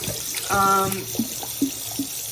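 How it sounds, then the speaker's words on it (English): Very hot tap water runs into a sink to rinse a Neti Flo nasal rinse pot, giving a steady close hiss broken by a brief tonal squeal and a few small knocks. "I just get it really, really hot and I just rinse it really good"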